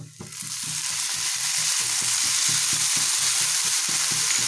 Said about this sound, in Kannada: ಈಗ ಇಂಗಿನ ನೀರನ್ನು ಸೇರಿಸ್ಕೊಳ್ತಾ ಇದ್ದೀನಿ